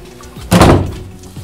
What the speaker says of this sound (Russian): Дверь.